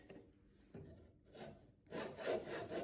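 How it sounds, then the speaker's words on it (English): A hand saw rasps through timber held in a vise while cutting tenon guidelines, with a few short, quiet strokes that build into steadier, louder sawing toward the end. "the 3 guidelines cut"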